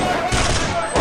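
Rapid gunfire rattles in a Counter-Strike match on the Inferno map, a dense loud burst of shots lasting about a second, mixed with game sounds and commentary.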